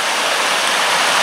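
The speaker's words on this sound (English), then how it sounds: "the water cascading out of it, and then this little bit of a waterfall there in the foreground" A small waterfall in a Dartmoor woodland spills water out of a little tunnel under a bridge, making a steady, close, full rushing and splashing wash with no voices.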